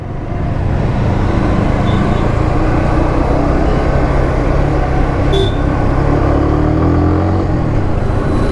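Kawasaki W175 motorcycle engine running steadily and loud for the whole stretch, a continuous broadband engine roar with no clear rev swells, close to the listener.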